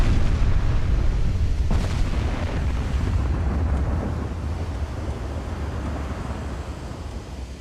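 Heavy 18-inch naval guns firing in Ultimate Admiral: Dreadnoughts, heard as a continuous deep rumbling boom with a low roaring wash that slowly fades, loud and close, with no talk.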